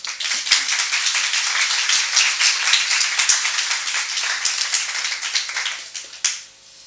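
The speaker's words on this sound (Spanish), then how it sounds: "para quien pido un fuerte aplauso." Audience at a university academic panel applauds an introduced speaker, a steady wash of many hands clapping for about six seconds before stopping abruptly.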